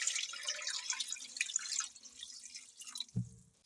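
Water splashes and trickles into a cooking pot holding chicken, onion, garlic, green cardamom and fennel for yakhni, a bright pouring spatter that fades out, followed by a dull knock.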